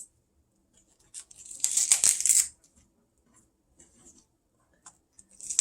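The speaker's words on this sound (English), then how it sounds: "want to remove all of these leaves off the back and just tear them off" A short burst of leafy tearing and crackling as outer leaves are pulled off the back of a cauliflower, close and fairly crisp, with quiet handling noises before and after.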